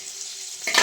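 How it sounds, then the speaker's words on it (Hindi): Tadka of spices hitting hot oil for saag, a sudden loud sizzling burst that starts near the end after a quieter kitchen hiss. "तो जो है ना तड़का लगाती हूँ"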